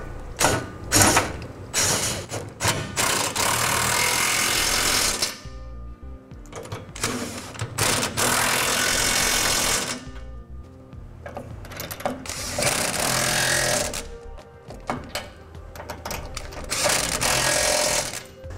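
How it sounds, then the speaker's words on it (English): Power tool or impact driver tightening trailer hitch bolts under a 2007 Ford F-250: close, loud bursts of buzzing whir of a few seconds each, separated by short pauses. "Once we have all our hardware in place, we'll go ahead and tighten it down."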